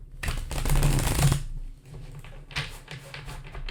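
Tarot cards riffled and bridged in a loud, crisp burst for about a second, followed by softer, scattered flicks and taps of the deck settling.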